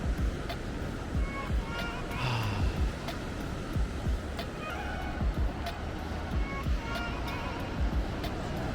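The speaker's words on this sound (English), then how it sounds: "The sounds of the ocean." Ocean waves heard from a seaside viewpoint in Tarragona, Spain, a steady low wash of surf with wind, mixed with passing traffic, a few faint bird calls and light voices in the background.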